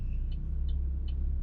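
A Chevrolet Trax with a 1400cc turbo engine moves off, giving a steady low in-cabin engine and road rumble with faint periodic ticking above it, no talk.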